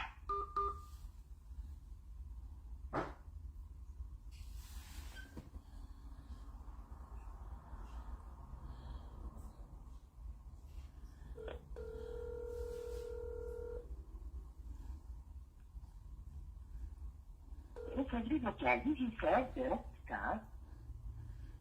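An international phone call: a faint hum runs underneath a few brief tones, then a steady two-part tone lasts about two seconds. Near the end comes a burst of quick keypad dialing tones, and voices talk at low level throughout.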